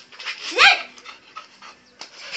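Dogs at play, with a sharp close bark followed by scattered yips and whimpers, loud against a quiet background.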